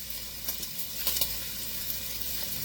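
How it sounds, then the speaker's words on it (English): Bacon sizzling in a frying pan while breakfast burritos are being made, a steady, fairly quiet crackle with a few brief louder pops, heard alone with no talk. "My bacon's starting to sizzle."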